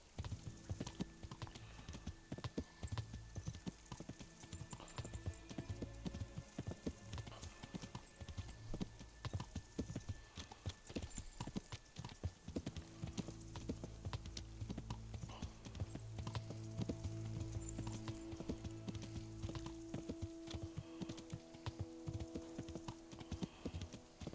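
Steady clip-clop of horse hooves at a brisk, continuous pace, close and prominent, with a faint hum and occasional rattling underneath.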